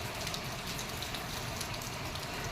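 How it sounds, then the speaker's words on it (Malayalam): Heavy monsoon rain pours down steadily outside a house in Secunderabad, a dense, even broadband hiss and patter that fills the whole stretch with no pauses and no voices. "സെക്കന്ദരാബാദ് ഇന്ന് ഫുള്ള് മഴയാണ്. രാവിലെ തുടങ്ങിയ മഴയാണ്."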